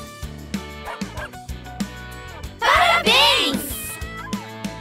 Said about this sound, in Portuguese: O cachorro late